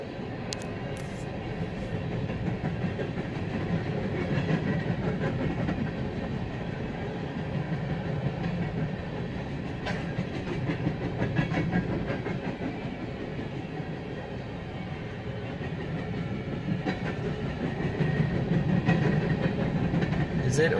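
A BNSF freight train rumbles steadily past with faint clacking wheels, heard from nearby, while a person talks quietly over the noise.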